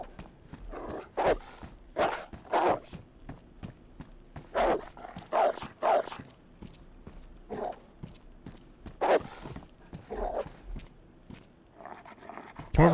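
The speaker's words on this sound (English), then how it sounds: "Bad dog." A dog in the survival game DayZ barks in short, repeated bursts, a dozen or so close, loud barks spread unevenly over the span with a faint rhythmic patter of steps underneath.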